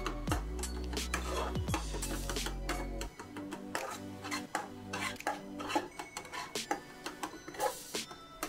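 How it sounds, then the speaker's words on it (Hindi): Egg bhurji with green onions being stirred in a pan, a spatula scraping and clinking against the metal in quick irregular strokes, with a low steady hum underneath. "आराम आराम से मिक्स करना है हमें, और इसे बस इसे नीचे पकड़ने नहीं देना है"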